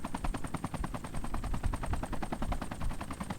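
Automatic gunfire in the military shooter Arma 3 rattles in fast continuous bursts, loud and close, with rapid evenly spaced shots running throughout.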